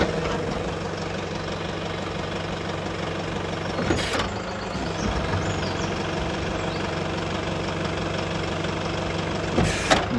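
A 2014 Toyota Hilux 2.5 D-4D diesel pickup with 110k miles idles steadily close by, a constant low rumble with two brief louder bursts of noise over it.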